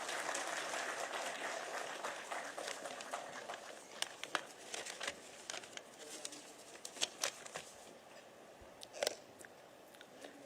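Audience applause welcomes a speaker at a book-launch ceremony at Raj Bhavan in Dehradun. Dense, fairly distant clapping starts at full strength, then thins into scattered individual claps as it dies away.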